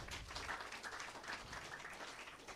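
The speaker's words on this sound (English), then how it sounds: "I request to audience to give the huge round of applause to our today's chief guest" An audience at a college event gives the chief guest a round of applause. The clapping is faint and distant, a soft, continuous patter that holds evenly for a couple of seconds.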